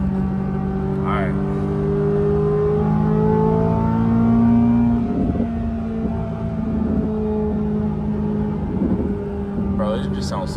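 Corvette C8 Z06 engine and exhaust on a night drive, a steady loud drone with engine tones rising and falling, a few brief revs near the start and end, heard from inside the car.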